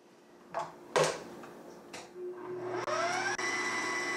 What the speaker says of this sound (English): Start the mixer on low and slowly add the eggs to the butter and sugar mixture